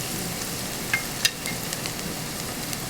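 Greens with garlic and cumin seed sauté in a pan, a steady close sizzle running throughout with a few soft clicks of stirring.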